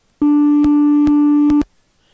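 Steady synthetic pitch tone made with Melodyne in Sony Vegas Pro 16, a single loud held buzzy note lasting about a second and a half, punctuated by a few faint clicks, with no talk.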